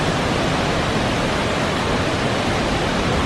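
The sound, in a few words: Naga Falls waterfall in the Himalayas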